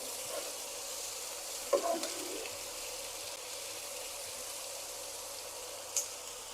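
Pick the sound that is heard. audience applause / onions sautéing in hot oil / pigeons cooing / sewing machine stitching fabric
onions sautéing in hot oil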